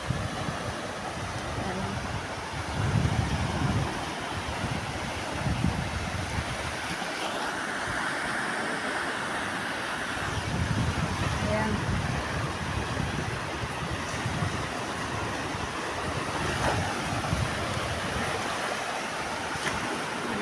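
Waves wash and surge along a Mediterranean beach at Oropesa del Mar, Spain, with wind rushing over the microphone, a continuous rolling sound with soft swells.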